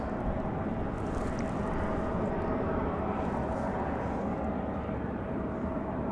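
Republic Airways Embraer E175LR jet arriving at Raleigh-Durham International after a flight from LaGuardia, a steady broadband engine roar holding loud and constant throughout.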